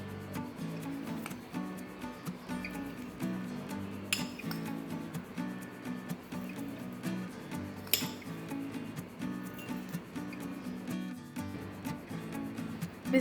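Crushed biscuits spooned into a glass while making chocolate mousse, with soft clinks and scrapes of a spoon against glass repeating at close range over steady background noise.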